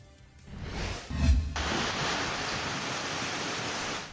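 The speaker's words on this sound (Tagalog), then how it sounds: "Makita nining video ang epekto sa kusog nga ulan ug hangin sa Barangay Crossing River sa Tupi South, Cotabato" Heavy rain and strong wind lash Barangay Crossing River in Tupi, South Cotabato. After a brief lull, a dense, steady roar of downpour and gusts sets in and holds loud to the end, with no voices.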